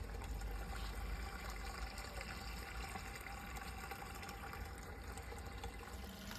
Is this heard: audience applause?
no